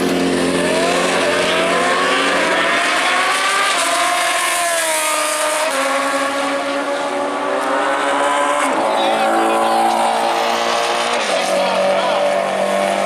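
Gen 1 Suzuki Hayabusa motorcycles launch at a drag strip with loud, sustained high-revving engine wails that rise and shift, a commentator talking over the roar throughout.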